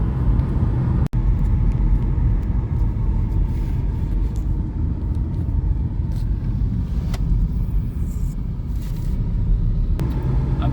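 A Saab 9-3 saved from the scrapyard cruises along the road, heard from inside as a constant low engine and tyre rumble with one sharp click early on.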